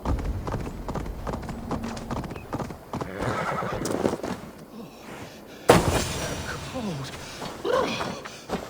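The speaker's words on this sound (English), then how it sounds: "Patience is a tired horse. Ploddity plod plod." Horse hooves plod with clip-clop steps and an occasional whinny while riding in the video game Assassin's Creed Valhalla, mixed with game ambience, a sudden loud impact and a voice speaking intermittently.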